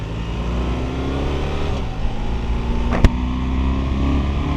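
BMW R 1300 RT motorcycle accelerating under a rider, a loud steady engine drone with a brief sharp blip near the end as a quick-shifter gear change, continuous and close, with no talking.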